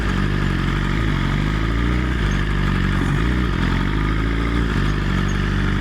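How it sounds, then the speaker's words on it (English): An S1K motorcycle on Michelin Road 6 tyres is ridden through New York City, its engine droning loudly and steadily up close with slight dips in pitch as the rider brakes hard to warm the tyres. "trying to warm these tires up a bit. Doing some hard braking."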